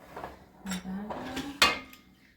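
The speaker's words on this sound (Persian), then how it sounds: "حالا قالبامون که میخوایم توی فر بذاریم میاریم" Metal cake baking molds, childhood tins meant for a carrot cake, are brought out and set down with a few clinks and knocks, close and quiet, under someone speaking.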